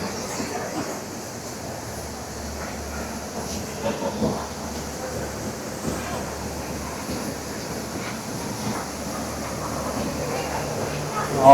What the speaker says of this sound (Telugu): వాటర్ ఫాల్స్ దగ్గరికి వచ్చేసాము